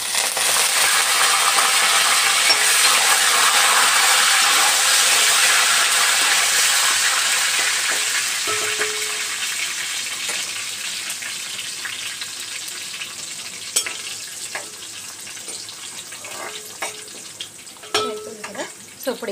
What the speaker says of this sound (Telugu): అలాగే ఇప్పుడు ఇందులో కరివేపాకు కూడా వేసేసుకుందాం.